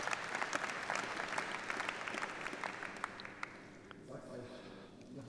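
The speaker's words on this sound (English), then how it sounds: "I think that's worth a hand and applause," Audience applause at a keynote on artificial intelligence, a dense wash of hand claps from a large crowd that gradually thins and fades toward the end.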